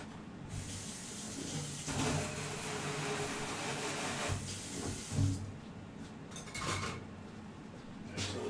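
Water sprays and hisses over a metal tray borrowed from a small hibachi grill, a steady rinse lasting several seconds with brief clatters of metal and a few louder splashes near the end.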